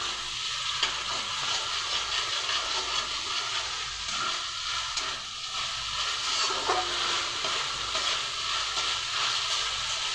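Ginger and green chilli paste masala fries in oil for palak paneer, a dense, loud, continuous sizzle and crackle with faint stirring underneath, close and uninterrupted.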